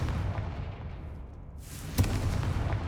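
A Confringo blasting spell going off in Hogwarts Legacy, a single booming explosive burst that swells in after a low rumble, loud and close, with no talk.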